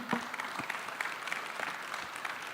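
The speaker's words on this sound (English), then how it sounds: "Big round of applause for our panel, please" Audience applause for a panel at a live-streamed main-stage conference, a steady wash of clapping from a crowd filling the space, moderately loud and continuous with scattered sharper claps near the start.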